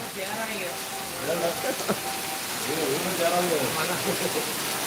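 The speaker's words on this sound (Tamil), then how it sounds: "தண்ணியை பாருங்க சரியான மழை" Heavy rain pours steadily in Kanyakumari, a continuous wash of close, moderately loud rainfall that runs under people talking throughout.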